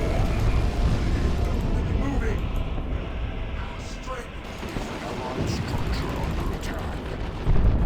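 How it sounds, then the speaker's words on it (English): Havoc Marines fire autocannons in Dawn of War 2: Retribution, a dense, continuous barrage of heavy gunfire and booming impacts mixed with battle noise, loud throughout, with some talk under it. "Havocs with auto cannon."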